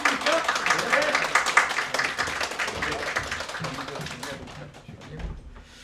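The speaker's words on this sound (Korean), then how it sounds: "한번 크게 박수 한번 쳐주시고 해줘야 됩니다" Audience applause at a school information session for incoming second-year high school students, a burst of brisk clapping that starts full and loud, then thins and fades toward the end, with a voice speaking near the close.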